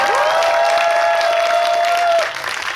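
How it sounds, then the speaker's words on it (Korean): Loud, sustained applause from a large cinema audience at a film guest visit in Seoul's Megabox COEX fills the clip, with a bright tone ringing over it, then tapers off near the end. "박수 부탁드리겠습니다"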